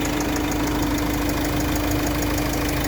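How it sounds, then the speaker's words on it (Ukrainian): A 2017 Renault Master 2.3 dCi diesel van engine idles steadily with a low, even rumble and faint knocking, heard up close and continuous. "Моторчик працює реально класно"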